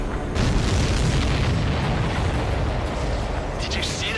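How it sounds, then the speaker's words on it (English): A loud, sustained explosion from a supply ship in the Ace Combat 7 jet combat video game, a heavy roaring boom filling the whole moment with dense low rumble. "Did you see that explosion?"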